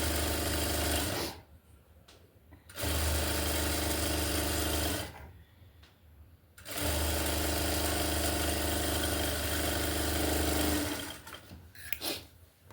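A sewing machine stitches two sleeves together, running in three long, steady bursts of motor whir separated by brief pauses, close and fairly loud with no talking.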